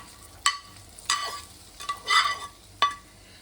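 Fried cashews and raisins are tipped into a pot of sweet Bengali basanti pulao and stirred, giving a few sharp metallic scrapes and clinks with soft rustling between them, close up and without speech.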